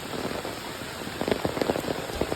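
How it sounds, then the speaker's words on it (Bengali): Steady, heavy monsoon rain in Noakhali pours down in a dense hiss, with a few sharper splashing bursts standing out near the end. "এক টানা বৃষ্টি হইতেছে এখন পর্যন্ত কোনো থামাথামি নেই"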